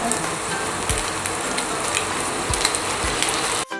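Spaghetti with egg frying in a pan in a home kitchen, a loud, steady close sizzle with occasional soft crackles and knocks, ending in a brief clatter, no voices.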